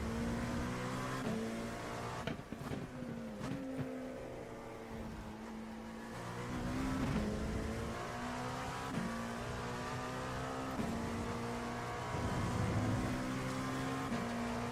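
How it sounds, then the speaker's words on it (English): Purple race car engine in iRacing at Road America, during an IMSA endurance event, revs with a steady droning tone that climbs and drops sharply at each gear shift, heard from the cockpit at moderate, fairly faint level. "Purple car does go zoom."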